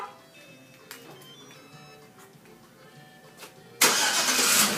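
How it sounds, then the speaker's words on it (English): A Chevy Tahoe fitted with a Prestige APS-922E remote start system cranks and fires up after a remote start. The engine catches loudly and runs at a steady, close roar, following a few quiet ticks and clicks. "To do the remote start, we hit the start key twice. The horn will honk and then the engine cranks."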